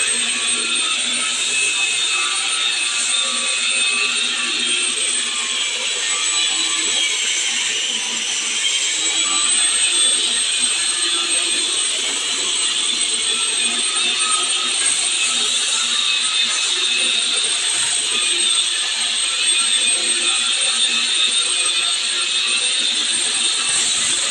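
A wall grinding machine runs steadily on a wall surface being sanded, a continuous loud high-pitched whirring grind that holds for the whole stretch without pause or talk.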